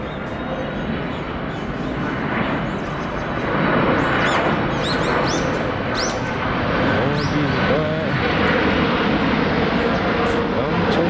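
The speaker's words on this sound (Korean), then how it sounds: "비행기 아주 자주자주 지나가네" An airplane passes overhead near a neighbourhood park, a broad engine rumble rising and holding over the second half amid outdoor background with birds chirping, while a person talks at times.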